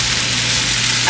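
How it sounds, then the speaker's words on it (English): Tomato paste sizzles loudly in a hot pan, a dense, steady frying hiss that carries close up without pause. "So I can saute the tomato paste"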